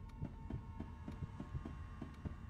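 A Roblox Pillar Chase 2 heartbeat effect, a steady low double-thump pulsing about twice a second over a faint constant hum, close and prominent with no voices.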